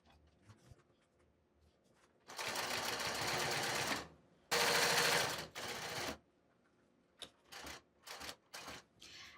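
A sewing machine stitches through a thick denim jeans waistband in two long loud runs, separated by a short pause, followed by several short bursts of stitching.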